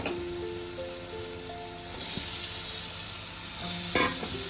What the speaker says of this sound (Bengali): মাছটা দিয়ে ভালো করে নেড়ে